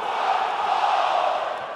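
A dense, loud arena crowd roars and cheers continuously in the WWE 2K20 wrestling video game, building before a Hell in a Cell match, with no distinct voices on top.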